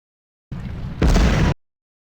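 Two back-to-back booming blasts of artillery fire in the Civil War strategy game Ultimate General: Civil War, a dull thud followed by a louder, fuller explosion, then silence.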